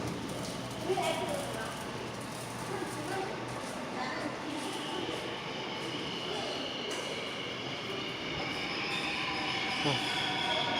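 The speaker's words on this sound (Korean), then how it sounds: "이제 열차가 들어오네요." A metro train rumbles into Moran Station on the Seoul subway with wheels squealing and steady mechanical noise, while a person talks over it.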